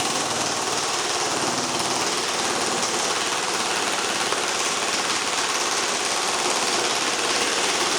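Full-metal G&G SOC 16 electric airsoft rifle running on an 11.1 V battery fires a steady, continuous full-auto buzz of rapid mechanical cycling, close and loud throughout with no pauses or talk.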